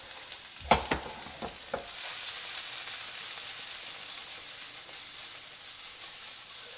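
Crushed fresh garlic and onions fry in a pan for corned beef and rice, a steady broadband sizzle with a few sharp clattering stirs near the start, then continuous frying hiss alone.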